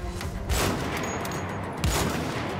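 Gunfire in the video game Wolfenstein: The Old Blood comes as two sharp, loud bursts about a second and a half apart over a low background din, with no talking.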